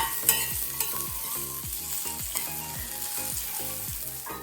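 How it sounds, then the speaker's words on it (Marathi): Onion, tomato and garlic masala frying in a little oil for dal makhani, a soft sizzle under rhythmic scraping strokes of a spoon stirring the pan, close and quiet with no talk. "थोडंसं तेल घालून छान असा हा मसाला भाजून घेऊया"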